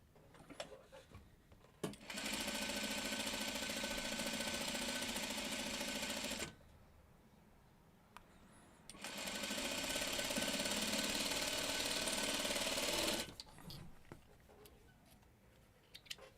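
Sewing machine stitching quilt pieces right sides together in two loud, steady bursts of rapid whirring and clatter, each a few seconds long, separated by a quiet pause.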